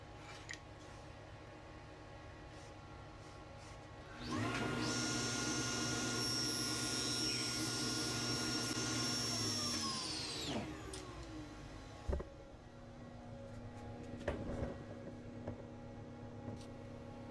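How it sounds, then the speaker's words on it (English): Table saw with a crosscut sled cutting through wood indoors: the motor spins up to a loud whine, holds for several seconds through the cut, then winds down, followed by faint workshop handling noises. "And then back over to the table saw and cut it off."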